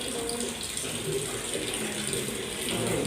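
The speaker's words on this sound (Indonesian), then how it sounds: "Ini tuh yang keran ujungnya ini dibuka" Water runs steadily from an opened tap, a continuous rushing stream that holds a constant level for the full three seconds, close by and with no voices.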